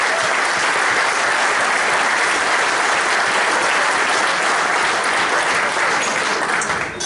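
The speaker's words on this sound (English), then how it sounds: "A big round of applause for them because their father had a huge part in this club" An audience at a Crumlin Utd football club 50th anniversary celebration claps loudly and continuously, a dense, even wash of applause filling the room without a break, with no voices standing out.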